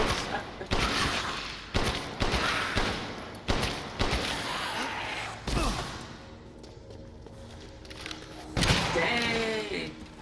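Gunfire in the Resident Evil Village video game rings out in loud, sharp bursts of several shots spaced a second or two apart, with game sounds between and people talking over it.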